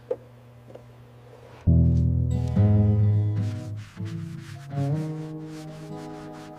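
An old headlight on a rusty blue car is cleaned. After a soft tap, a powered tool starts abruptly with a loud, close, tonal whine that shifts in pitch and dips and surges as it works, then eases slightly toward the end.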